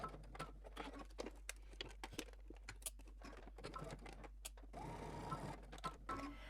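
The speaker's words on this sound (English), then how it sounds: "we're going to go ahead and stop and back stitch at the dot" Sewing machine back stitching a pocket seam on a garment, with a close, rapid mechanical patter of needle strokes that stops and restarts in short bursts, then a steadier whirring run.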